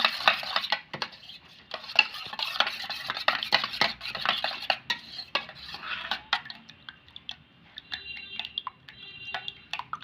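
Eggs being mixed with black pepper powder in a bowl: a run of quick, close clinks and scraping taps from a spoon against the dish, irregular in rhythm, with brief pauses and no voices.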